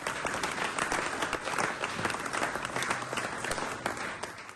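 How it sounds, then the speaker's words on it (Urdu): A crowd applauds at the unveiling of a portrait of Quaid-e-Azam Muhammad Ali Jinnah during a Pakistan-UK diplomatic anniversary ceremony, dense sustained clapping close by, with no talking. "اس موقع پر فضا تالیوں سے گونج اٹھی۔"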